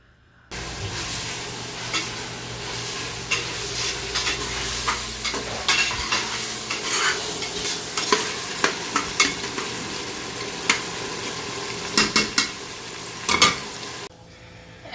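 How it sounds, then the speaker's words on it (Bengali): Meat for biryani sizzles and fries in a wok while a utensil stirs and scrapes it, giving steady frying hiss with repeated sharp metallic clanks that grow louder toward the end. "এখানে আমরা আগে মাংসগুলা রাইন্দা নেমু এই কড়ায়"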